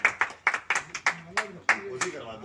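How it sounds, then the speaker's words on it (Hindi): A handful of people at a tree-planting event clap in a quick, uneven rhythm, about ten sharp claps, with a voice talking over them toward the end. "आप लोग तारीफ करें, तालियां।"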